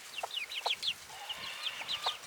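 Young roosters and chickens clucking and squawking in a busy, overlapping flurry of calls, close and moderately loud with no talk.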